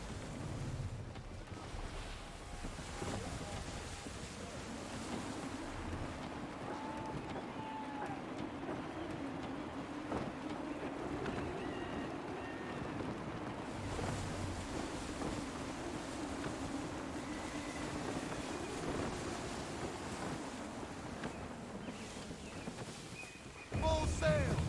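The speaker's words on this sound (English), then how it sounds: "Wind looks to be shifting. Stay alert, Connor. Gusty winds can be difficult to manage." Gusty wind rushing over open sea aboard a sailing ship in the Assassin's Creed 3 video game, a steady low roar of wind and water running throughout, with talk heard under it.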